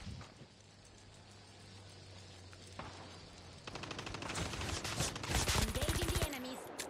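Rapid bursts of submachine gun fire in Call of Duty Mobile, sparse at first then building into dense automatic fire, with a low engine-like hum underneath.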